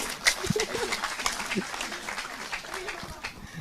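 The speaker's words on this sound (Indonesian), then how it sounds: "tepuk tangan untuk Mas Agung ya" A seated audience at a discussion on Majapahit and Indonesian government claps in a loose, moderate patter. Speech runs over and around the clapping.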